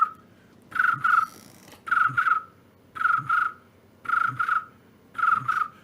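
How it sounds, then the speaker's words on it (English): A cricket chirping sound effect plays as evenly spaced bursts of shrill trills, about one each second, against a quiet background with no voices. "Crickets."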